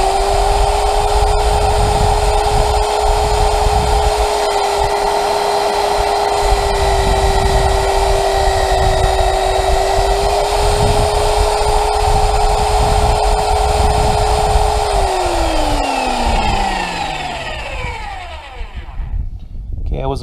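A BlueRock BRM-35A magnetic drill runs steadily and loudly at close range while cutting, holding a constant motor whine that drops in pitch near the end as it slows.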